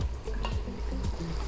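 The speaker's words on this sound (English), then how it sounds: "Give this a stir" Cauliflower stirred in a frying pan: a continuous close sizzle with a low rumble beneath and repeated scraping, sliding strokes of a utensil against the pan, no talk.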